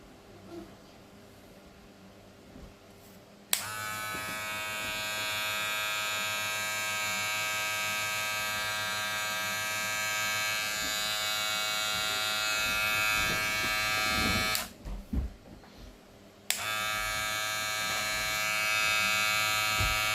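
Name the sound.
Gamma+ balding hair clipper running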